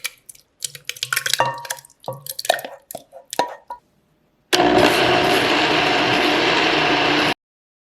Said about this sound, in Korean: 믹서기에 넣어 갈아줄게요.